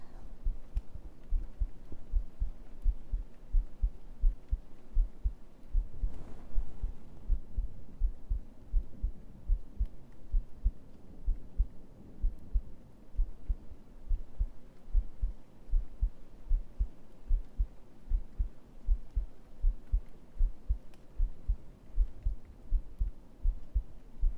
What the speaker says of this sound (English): I'm doing heartbeat